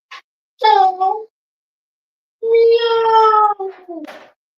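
A cat meows at close range, one short call and then a longer drawn-out meow with a few trailing mews. Between the calls, a person speaks briefly in a home setting.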